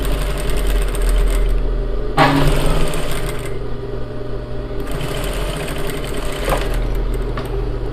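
Sewing machine stitching a blouse with an American-style armhole, running in two long bursts of fast, steady mechanical whirring, close and loud, with a low motor hum between runs.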